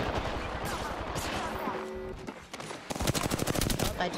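Gunfire in the video game Apex Legends: rapid automatic bursts crackle close and loud, with a dense volley of shots near the end and someone talking over the opening stretch.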